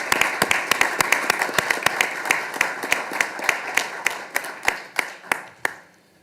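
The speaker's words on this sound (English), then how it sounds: "Please join me in thanking them with a round of applause." A school board meeting audience gives a round of applause: a modest crowd clapping in a steady patter, thinning to a few scattered sharp claps before it fades out.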